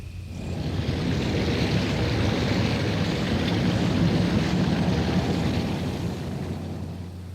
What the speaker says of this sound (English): the sound of a waterfall can be heard